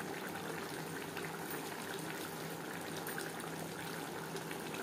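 Chicken liver and stomach curry cooking in a pan over a high flame, a steady low bubbling and simmering hiss that runs evenly throughout with no talk.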